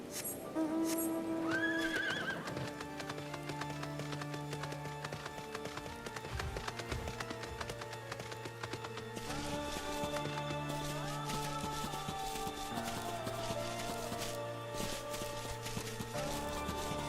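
A horse whinnies at the start in Final Fantasy XIV Endwalker, followed by steady hoof clip-clops beneath continuous game music, with no one speaking.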